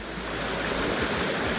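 Fresh water runs down a mountain stream on Scafell Pike, a steady close rush and gurgle that fills the whole moment at an even level, with no voices.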